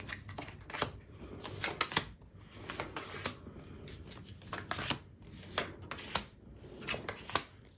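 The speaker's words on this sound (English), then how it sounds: "I'm going to lay out the cards for this Celtic cross for you today." Tarot cards laid out one by one for a Celtic cross spread, each producing a close, crisp snap or slide in an irregular run of card flicks and shuffles, with no talking.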